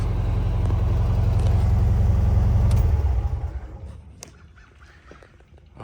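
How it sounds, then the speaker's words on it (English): A 1978 VW Super Beetle convertible engine idles with a loud, low air-cooled rumble close by, then is switched off about three seconds in, the sound dying away to quiet with a few small clicks. "I'm sure it's kind of hard to hear me with the car running, so I'm gonna shut it off."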